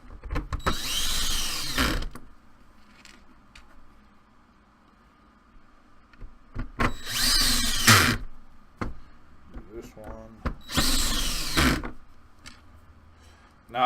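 A power drill drives screws into the gearbox of an airsoft MP5K, heard as three loud, close bursts of whirring, each about a second long, separated by quieter handling noises and faint talk.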